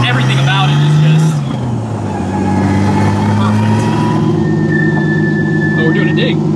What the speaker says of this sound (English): just you hear the drivetrain and the turbo